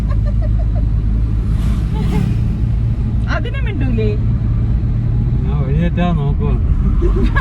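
A car being driven gives a steady low road rumble and engine hum beneath people talking inside the cabin.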